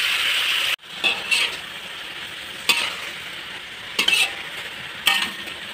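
Water spinach being stir-fried with bamboo shoots in a pan, a steady loud sizzle broken by a brief cut and several sharp bursts of stirring and spatula scrapes, with no talking.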